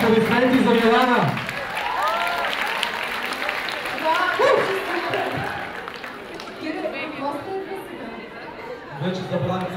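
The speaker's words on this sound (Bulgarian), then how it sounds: "Аплодисменти за Милана!" Audience applause and cheering at a K-pop awards ceremony during an anime expo, steady clapping from a crowd with chatter and a speaking voice over it, loudest at the start and end.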